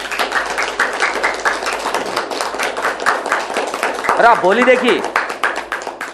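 Audience applause welcoming latecomers, a dense patter of many hands clapping throughout, with a person's voice speaking over it partway through.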